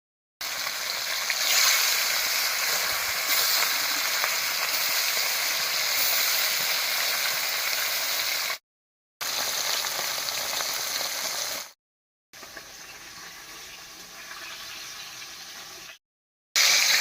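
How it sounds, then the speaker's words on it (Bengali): Fish sizzles steadily in hot mustard oil in a pan, a loud, continuous frying hiss that breaks off briefly a few times. "মাছ ভাজার জন্য কড়াইতে দিয়ে দিচ্ছি সরষের তেল।"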